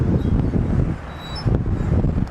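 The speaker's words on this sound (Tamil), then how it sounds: "ப்ளீஸிங்கான ஒரு காற்று." A pleasant breeze gusts along the Abu Dhabi Corniche seafront, a steady low rumble of wind buffeting the microphone with faint background noise, loud and continuous with no talking.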